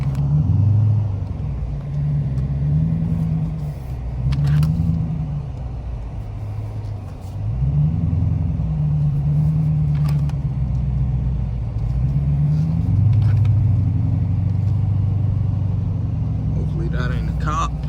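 A Dodge Challenger R/T V8 accelerating in a snow blizzard: a deep, close engine rumble that rises and falls through repeated revs and gear pulls, steady and throaty across the whole stretch.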